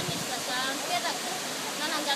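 A waterfall in Madagascar gives a steady, even rush of falling water, moderately near and continuous for a few seconds.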